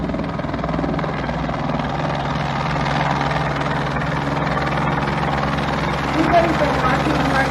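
An unmanned helicopter carrying a navigation camera flies overhead, giving a steady, loud rotor chop and low engine drone that continue throughout the clip, with a slight swell near the end.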